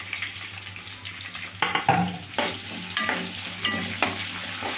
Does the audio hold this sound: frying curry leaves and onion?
yes